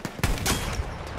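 Burst of gunfire in the video game Battlefield 1, several sharp shots in quick succession over a busy battlefield din, fairly close and loud.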